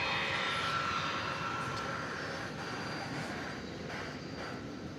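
An Embraer 170 airliner at DFW Airport, its broad steady jet roar filling the air at a moderate distance, slowly easing in level with no talk over it.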